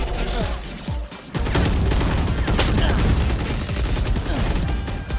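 Dense, rapid gunfire bursts in an online multiplayer shooter game, loud and nearly continuous with sharp cracks and a brief lull, while players talk over the shots.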